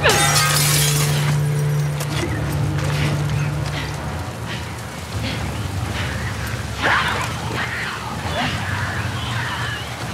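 Glass shatters loudly at the start in The Last of Us Part II, a bright crash that trails into scattered tinkling shards and debris over several seconds, with a low game hum and faint voice underneath.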